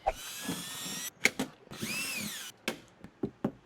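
A power tool drives rivets into custom brake-metal window covers, giving a series of loud, close, sharp whirring bursts separated by brief pauses.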